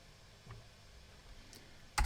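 Computer keyboard typing while programming in Perl: a short, close burst of clicking keys at the very end, after a quiet stretch with faint room noise.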